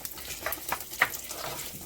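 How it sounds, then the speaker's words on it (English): Soft sizzling of food frying in hot oil, a faint crackle with a few brighter pops scattered through it. "See that sizzle? I like that sizzle."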